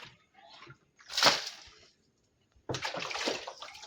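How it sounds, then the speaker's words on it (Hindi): Hands being washed under running water in a village home, with short splashy bursts of flowing water separated by pauses, close and fairly quiet. "और अभी मैं हाथ धो रही हूँ।"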